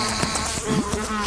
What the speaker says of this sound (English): I don't really like flies. Oh, I do. They buzz around.